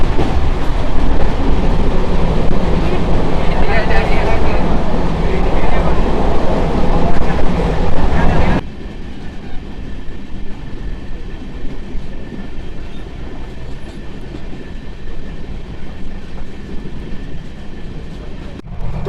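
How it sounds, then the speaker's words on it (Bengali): The Amrit Bharat Express rushes at top speed toward Rampurhat, heard from inside as a loud, dense roar and rattle that suddenly drops to a quieter steady rumble partway through. "অমৃত ভারত এক্সপ্রেস তার সর্বোচ্চ গতি নিয়ে ছুটে চলেছে রামপুরহাট স্টেশনের দিকে।"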